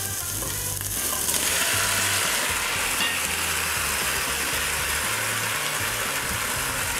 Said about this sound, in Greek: είμαι έτοιμη τώρα να ρίξω μέσα την κολοκύθα μας,